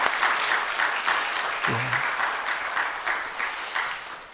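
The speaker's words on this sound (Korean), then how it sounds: "우리 한번 다시 한번 박수로 위로의 박수를 한번 드리겠습니다" Congregation at a Sunday church service clapping in comfort for a bereaved family, moderately faint, steady applause with a slightly pulsing rhythm and a brief low voice partway through.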